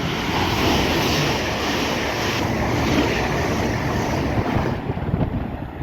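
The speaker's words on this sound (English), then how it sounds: "passing through now is yet another Avera going from Liverpool to London" Avanti West Coast Class 807 train passing through Wolverton on the West Coast Main Line, Liverpool to London Euston: a loud, sustained rushing roar close by, mixed with heavy wind buffeting on the microphone and easing slightly at the end.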